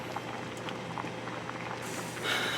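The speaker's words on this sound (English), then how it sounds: "I have the potatoes really boiling" Potatoes boiling vigorously in a pot on the stove, a steady bubbling and gurgling with faint clinks, moderately quiet and close, rising a little louder near the end.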